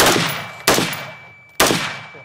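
Rifle gunshots at shooting practice: three loud, sharp cracks spaced about a second apart, each followed by a long ringing echo that fades away outdoors.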